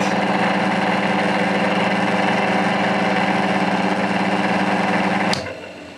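A homemade lathe's electric motor runs with a steady, loud, even hum and whine, then cuts off abruptly with a sharp click near the end and fades as it winds down.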